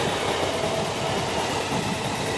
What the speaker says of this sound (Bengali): এই ট্রেন চলে গেল বনগা লোকাল